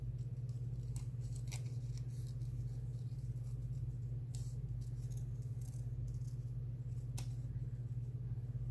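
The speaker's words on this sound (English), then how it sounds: "so I'm not moving my scissors, I'm moving the paper." Scissors give a few soft, scattered snips through paper, rough-cutting for a paper collage, spaced irregularly over a steady low hum.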